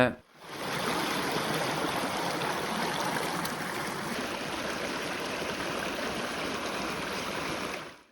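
A steady rush of flowing river water fills the clip at an even level, fading in quickly and cutting off at the end.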